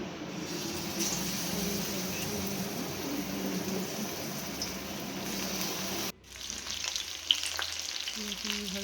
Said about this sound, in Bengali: কড়াইতে তেল গরম করে মাছটা ছেড়ে দেখুন কেমন লাগছে